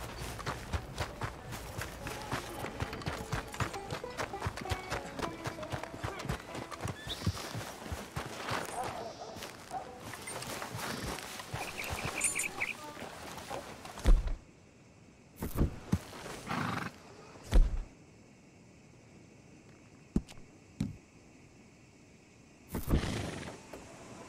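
Horse in the Red Dead Redemption 2 video game, with hoofbeats and rustling game sounds running steadily for about fourteen seconds, then a few short loud bursts separated by quieter gaps, under a voice talking.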